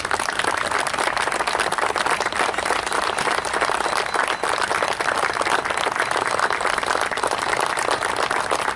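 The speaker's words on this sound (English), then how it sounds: "please stand and be acknowledged with a round of applause from those present" Survivors at a dedication ceremony receive sustained, dense applause from the gathered audience, a steady roar of many hands clapping that holds at an even, loud level throughout.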